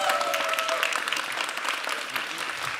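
Warm applause from an audience at an awards gala in Stary Maneż, Gdańsk, a dense, even wash of clapping with a faint voice or whistle near the start.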